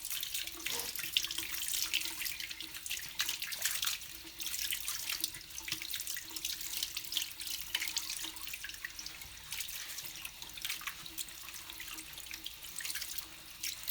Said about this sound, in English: You just basically want to rinse until it runs pretty clear.